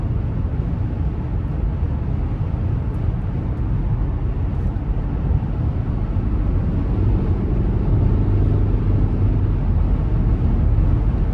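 Steady cabin rush of wind and road noise inside a 2025 Cadillac XT5 Luxury 2.0T while driving, a constant low, even roar that holds for the whole stretch with no talking.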